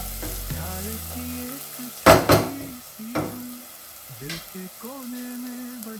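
Masala paste for mutton sukka frying in a pan, a soft steady sizzle broken by sharp scraping bursts as a spoon stirs against the metal, with a few lighter clinks.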